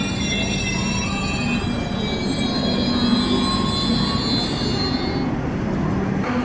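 Busy ambience at Lokmanya Tilak railway station near Kurla in Mumbai: a steady, loud rumble of trains with drawn-out high wheel squeals running across the whole stretch. No one speaks.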